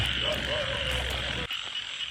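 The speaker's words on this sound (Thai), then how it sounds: "กบผูตัวหนึ่งครับท่านผู้ชม" A frog croaks at night near a small pond, with a steady, close rasping croak over a constant chorus of night insects before it stops abruptly.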